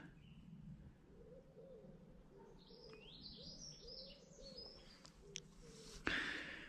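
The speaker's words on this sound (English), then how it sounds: "Dead quiet apart from birds." Birds, including pigeons, pheasants and small songbirds, chirp and call in quiet Lincolnshire or Nottinghamshire countryside, with light high tweets scattered over a soft, steady background hum.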